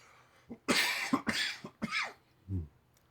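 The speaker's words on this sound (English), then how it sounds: "I'm going to cough here real quick." Several sharp coughs in quick succession, close and fairly quiet, ending with a short lower throaty sound.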